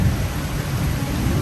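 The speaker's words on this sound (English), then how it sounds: "you'll get an incredible thunderstorm to enjoy from your terrace after" Steady broadband rain hiss with low rumbling energy from a thunderstorm, heard from a resort terrace on Phu Quoc island, continuous and fairly loud with no voices.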